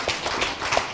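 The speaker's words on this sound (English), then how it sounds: "A big applause for Jean-Luc" An audience at a Paris business conference applauds the host, an even patter of many clapping hands with small rising bursts, moderately loud and with no speech over it.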